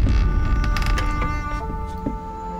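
An apartment door creaks open in the game Mafia, giving a long, grinding mechanical creak with a few clicks that fades off near the end.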